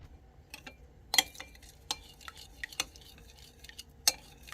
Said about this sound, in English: Whole peppercorns. We'll crush them up there.